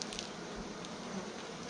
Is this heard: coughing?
no